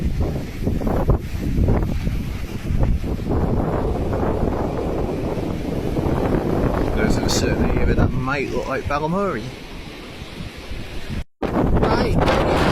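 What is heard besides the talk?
strong wind on the coast of Gibraltar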